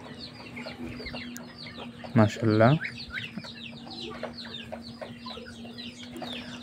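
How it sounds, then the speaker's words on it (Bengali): Backyard hens clucking nearby, a burst of loud clucking in the middle over a steady hum, with other birds and a person speaking briefly. "এই মুরগিগুলো খুব শীঘ্রই ডিম দেওয়া শুরু করবে।"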